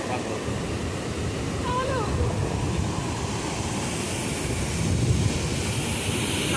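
Sea waves at Mandarmani beach, a steady wash of surf and wind noise, loud and continuous, with a brief voice rising faintly through it.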